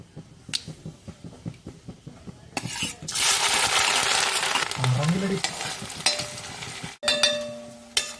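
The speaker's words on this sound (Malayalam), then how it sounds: "കടുക് പൊട്ടിയതിന് ശേഷം ചതച്ച് വെച്ചിരിക്കുന്ന ഇഞ്ചിയും വെളുത്തുള്ളിയും ഇന്നത് ചേർക്കുക" Crushed ginger and garlic hit hot oil after mustard seeds have popped, raising a loud, steady sizzle that swells and holds for several seconds, preceded by a few soft clicks and scrapes and followed by faint clinks.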